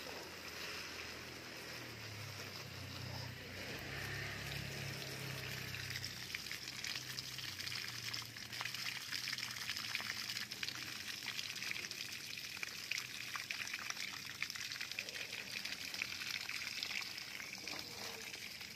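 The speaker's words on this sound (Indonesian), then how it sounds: "Dan ini kita siram daunnya biar makin mantap." Continuous spray of water pattering and trickling onto durian seedling leaves, steady and close for a long stretch, with faint talking early on.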